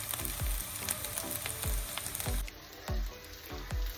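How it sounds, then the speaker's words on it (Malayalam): Onions sautéing in a pan for beef roast, a continuous close frying hiss with regular thumping knocks of a spatula against the pan roughly every half second. "സവോള നന്നായിട്ട് വഴറ്റി കൊടുക്കണേ"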